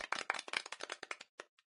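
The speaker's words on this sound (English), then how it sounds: "Applause well deserved." Brief burst of applause sound effect from the video game I Wanna Go Bananas: quick, fairly faint clapping lasting under two seconds and tapering off at the end.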